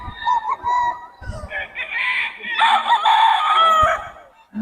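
Roosters crow at a busy chicken market in Bocaue, several overlapping calls close by and loud, with clucking and faint voices of people in the background.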